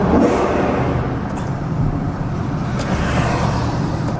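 Ferrari Purosangue V12 engine running with a loud, steady low rumble close by, held at a sustained level throughout with no distinct rev peaks.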